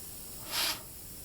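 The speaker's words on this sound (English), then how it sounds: "I'm going to move the airbrush back a little farther to compensate" Airbrush spraying decoration onto a cake, a single short soft hiss that swells and fades within about a quarter second, alone against quiet room noise.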